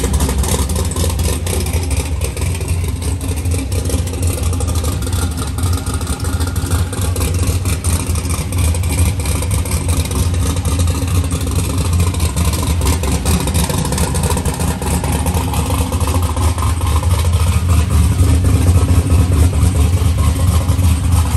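A big block Chevy engine in a drag car idles loudly and close by, its lumpy low rumble holding steady for a long stretch and rising toward a rev near the end, with no talking.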